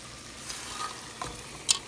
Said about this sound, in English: I let them fry up